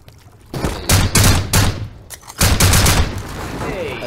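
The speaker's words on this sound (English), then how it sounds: "That's why I use explosive bullets" Rapid bursts of explosive rounds fired in the survival game Rust, loud close cracking volleys in two main clusters with brief gaps between them.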